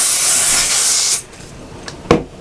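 A spray can hisses in one long continuous burst onto quilt backing and wadding, then stops, followed by a couple of soft handling knocks.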